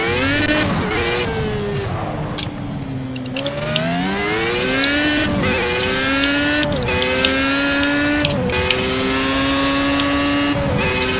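A race car engine in the Project Cars racing game revs hard and climbs through the gears, its whine rising steeply, dropping briefly at each quick upshift, then rising again, loud and continuous.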